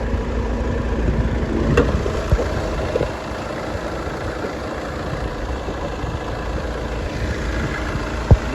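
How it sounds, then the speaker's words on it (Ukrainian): A 2006 Mercedes Vito 111 CDI Long diesel engine idles steadily and close up with the hood open, a continuous low rumble with a brief knock or click near the end. "Двигун працює чистесенько, так як і має працювати."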